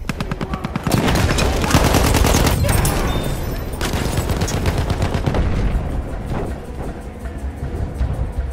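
An enemy machine gun fires in the World War I game Battlefield 1 in loud, rapid, densely packed bursts. The barrage continues heavily for several seconds, then thins into scattered shots and background battle noise.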